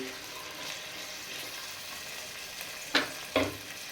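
Chopped onions frying in hot oil until brown for a daal mash tarka, giving a steady soft sizzle with two brief louder crackles from stirring near the end.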